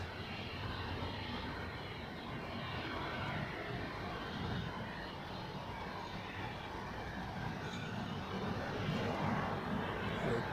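An airliner arriving from Geneva taxis at Zurich Airport, its engines producing a low, steady whine and rumble at moderate distance, continuous and even with no voices.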